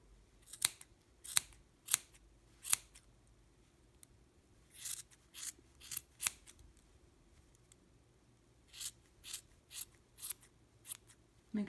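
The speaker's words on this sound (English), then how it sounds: "And now with a pair of scissors, all of these loops you're going to cut." Crisp snips of scissors cutting through the yarn loops of a chunky crocheted beanie, a series of sharp close cuts in irregular bursts with short pauses between them.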